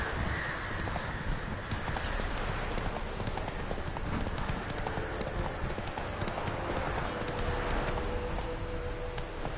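Horse hooves gallop in a rapid, continuous clip-clop rhythm in The Witcher 3: Wild Hunt. The sound is loud and steady, with a brief whinny and game ambience mixed in.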